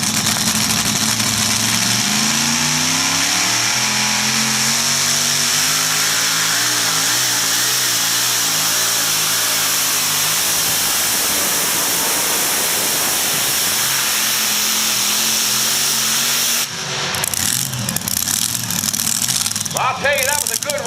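A supercharged pulling tractor roars at a tractor pull, its engine loud and sustained with rising and falling rev tones, steady as the run continues and ending in a rougher burst, close and powerful.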